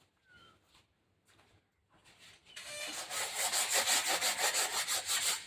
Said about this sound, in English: So the grey is where I'm sanding,